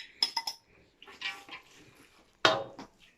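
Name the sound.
bacon added to a pan of creamy shrimp spaghetti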